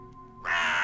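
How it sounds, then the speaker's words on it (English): A crow caws once in the video game Dreamfall Chapters, a loud, harsh call that starts abruptly partway through and holds to the end, over a quiet musical drone. "Bird."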